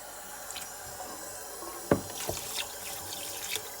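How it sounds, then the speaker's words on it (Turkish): Homemade butter rinsed under a cold running kitchen tap, with a steady wash of flowing water and a few sharp splashes and drips, close and fairly quiet. "Şimdi yağımızı bir güzel soğuk suyumuzla yıkayacağız. Soğuk suyun altında yıkayacağız."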